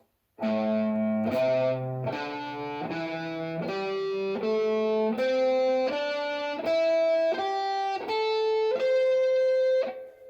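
An electric guitar with effects picks an ascending pentatonic scale in alternating down and up strokes, about a dozen evenly spaced notes climbing steadily upward, loud and close.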